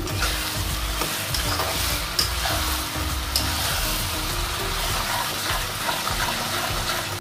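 Fresh tomato puree roasts in a pan for lauki bharta, making a steady, dense sizzle and bubbling hiss that runs loud and continuous throughout with no talking.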